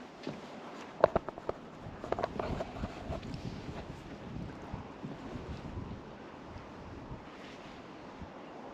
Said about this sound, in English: This wind makes my line kind of slack.